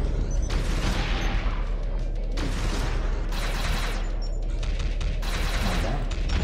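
Rapid bursts of gunfire rattle out in a Mighty Morphin Power Rangers Mega Battle video game, several loud fusillades separated by short gaps over a constant backdrop of game noise.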